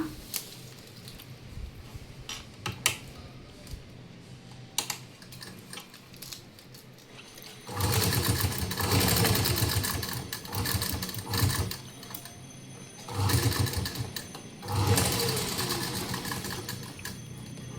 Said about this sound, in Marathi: तर एक साईडला पहिला आपण स्टिच करून घेऊया.